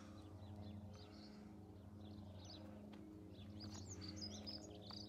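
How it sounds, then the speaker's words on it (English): Several birds sing and chirp in short bursts across open countryside in the Cotswolds in spring, fairly faint and at a distance, over a constant low mechanical hum. "It's very nice to be out in the country and hear the bird song"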